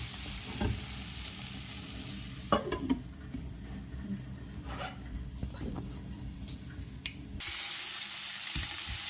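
Tomatoes and curry leaves simmer and sizzle softly in a pan for sabudana khichdi, with occasional stirring clatter and a brief louder hiss near the end, heard close and fairly quiet.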